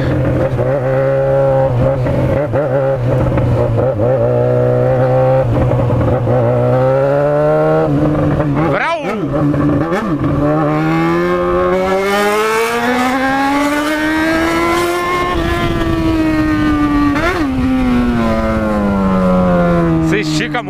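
A Yamaha XJ6 motorcycle accelerates hard on a ride, its engine note climbing steadily and loudly through the gears with a brief shift dip, close and continuous throughout.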